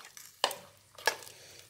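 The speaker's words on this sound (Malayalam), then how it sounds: "എന്നിട്ട് നന്നായിട്ടൊന്ന് മിക്സ് ചെയ്ത് കൊടുക്കുക" Two soft scraping strokes of a spoon through thick erissery, a Kerala curry of pumpkin and beans with coconut, stirred in a pan, close and fairly quiet with a pause between.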